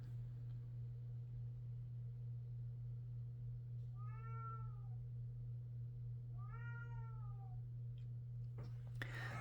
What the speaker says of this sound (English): I'm sorry if you guys can hear my cat in the background.